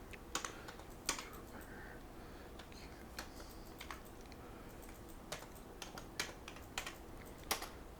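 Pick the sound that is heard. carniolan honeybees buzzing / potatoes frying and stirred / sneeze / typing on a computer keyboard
typing on a computer keyboard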